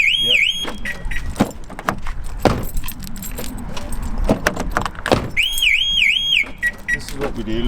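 A Range Rover Evoque's car alarm sounds twice as the car is locked, a loud warbling siren tone in two bursts separated by a pause, with key jangling and clicks close by.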